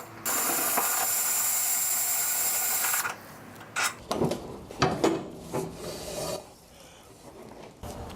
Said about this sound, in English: With an 8mm hex wrench, remove the rear roller.